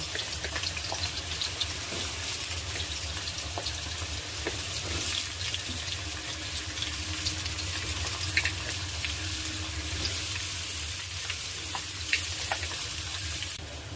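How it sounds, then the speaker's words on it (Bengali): Potatoes and onions fry in hot oil for egg chowmein, a continuous dense hiss and crackle close by with occasional small pops and no voices. "তেলটার মধ্যে এবার আমি একে একে আলু আর পেঁয়াজ সব ভেজে নেব"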